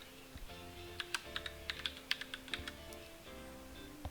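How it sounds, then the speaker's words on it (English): Keys on a computer keyboard are struck in an irregular series of sharp clicks while filling in names on a form, fairly close and alone over a low steady background hum. "press the tab to jump to the tab stop, and type in the names they want you to type in there"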